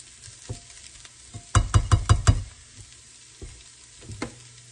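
Food frying in a hot pan while cooking a Southern breakfast of bacon, sausage, eggs and hash browns, a steady low sizzle broken by a quick burst of five or six loud clattering stirs and scrapes, then a few softer knocks.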